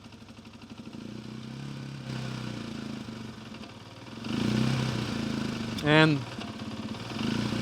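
A Janus Halcyon 250 motorcycle engine idles on full choke while warming up on a warm day, a steady low, even rumble held throughout, with a brief spoken word and a short louder swell near the end.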